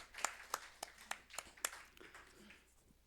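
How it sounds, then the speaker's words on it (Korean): A church congregation at a Sunday morning worship service applauds to bless newly elected church officers: a short run of sharp, distinct claps in quick rhythm, faint and roomy, thinning out after a couple of seconds. "박수로 한번 축복을 하겠습니다"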